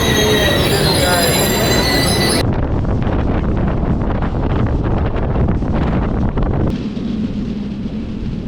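The Vanchinad Express brakes into Kottayam railway station, its wheels squealing loudly over a constant rolling rumble with wind buffeting the microphone; the roar shifts abruptly partway through and softens near the end.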